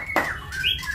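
A white-rumped shama gives a quick series of clear, sliding whistled notes up close, one short phrase with a sharp squawk-like onset.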